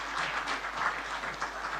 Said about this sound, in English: A round of applause as he comes to stage